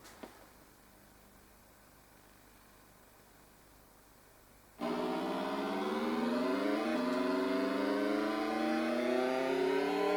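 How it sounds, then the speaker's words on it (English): Car engines in the 1989 racing video game Continental Circus start after a quiet synthetic hum, then hold a loud, steady electronic drone whose pitch climbs in stepped sweeps as the car accelerates. "The sounds, as you'd expect, are pretty much just the sounds of car engines."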